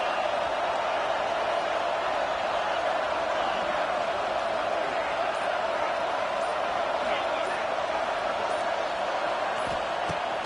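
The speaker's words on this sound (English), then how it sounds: "Listen to this crowd just shaking the girders of this place, trying to help their defense." Dense, continuous stadium crowd roar from the Madden 25 football video game, loud and unbroken throughout with no clear breaks.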